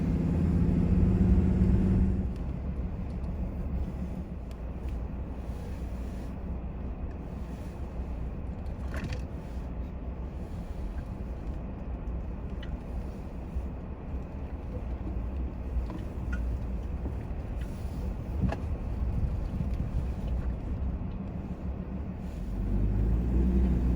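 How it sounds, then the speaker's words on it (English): A vehicle driving along a rough track toward the lighthouse on Ripiro Beach near Pouto, giving a continuous low engine and road rumble with louder bursts at the start and end. "I keep stopping to, oh Jesus, look at the view and do whatever, and not pay attention to where I'm driving"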